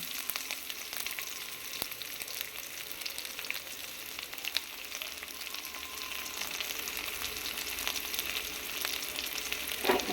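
Onion and green chili fry in hot oil with mustard seeds and urad dal, a continuous crackling sizzle heard close, with occasional pops and faint stirring.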